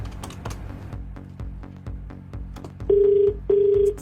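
Soft keypad clicks and taps, followed by two loud steady dialing tones, each lasting about half a second, close by with no talking.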